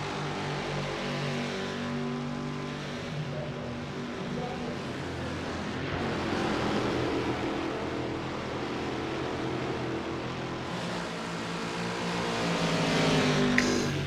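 Race cars roar around the Charlotte circuit in iRacing, a 4-hour ChampCar endurance event, with engines droning loudly and continuously and swelling as the pack passes near, and no voices over the engine noise.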